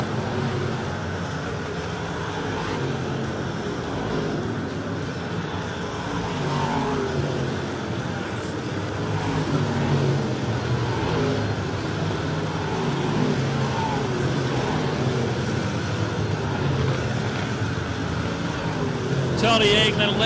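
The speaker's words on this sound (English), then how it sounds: "Tony Anglin left rear brake rotor glowing red on that G1 machine" Super stock race cars roar around a track in a continuous, loud engine drone that rises and falls slightly as the pack passes, with an announcer talking over it throughout.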